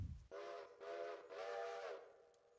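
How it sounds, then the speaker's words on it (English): Locomotive whistle in the Railroader railroad video game, sounding three sustained harmonic blasts in quick succession, loud and close, with no talk over it. "Don't know if I like that whistle or not"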